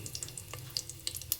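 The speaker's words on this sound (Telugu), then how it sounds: "దీంట్లో కొంచెం కరివేపాకు వేసుకుందాం. ఇది కొంచెం ఫ్రై అవ్వాలి." Mustard seeds, cumin, dried red chillies and curry leaves sizzle in hot oil, a steady close hiss dotted with sharp crackling pops.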